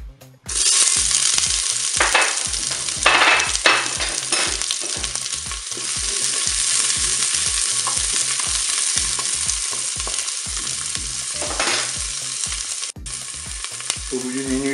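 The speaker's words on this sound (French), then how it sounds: "l'huile est chaude, je vais pouvoir mettre mes oignons" Onions frying in hot oil inside a Cookeo multicooker, a loud, steady sizzle that holds continuously, with faint rhythmic stirring clatter beneath it.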